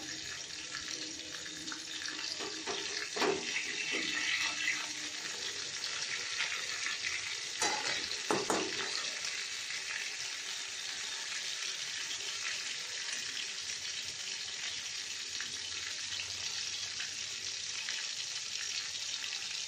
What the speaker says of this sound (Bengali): মাছটা ভাজার সময় খুব ফোটে, সুতরাং সাবধানে একটু ভেজি।